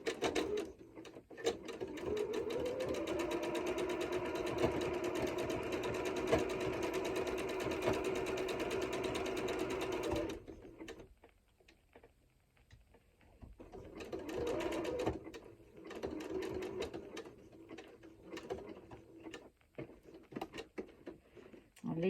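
A sewing machine runs a zigzag stitch across cushion fabric, a fast steady mechanical chatter for about ten seconds, then quiets before a second shorter burst of stitching, close and with no talk.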